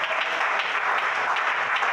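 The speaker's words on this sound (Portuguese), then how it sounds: "Mais palmas para Jesus." A church congregation applauding during an evening service, steady dense clapping from many hands with no break, filling the space.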